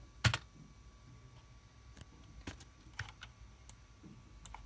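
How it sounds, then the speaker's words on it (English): Password typed on a computer keyboard while setting up Raspberry Pi OS: a few sparse, quiet key clicks scattered over a low room hum, with one sharper tap near the start. "And now you just type in your password."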